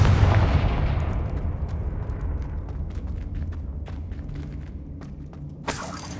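The Confringo fire spell explodes in the video game Hogwarts Legacy with a loud, booming blast that fades into a rumbling tail, followed near the end by a sharp crack.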